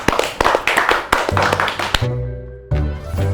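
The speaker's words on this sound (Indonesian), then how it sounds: "Tepuk tangan buat Master Limbat." A few people clap in a podcast studio, giving a short burst of sharp, evenly spaced claps near the mic that quickly gives way to a loud musical sting.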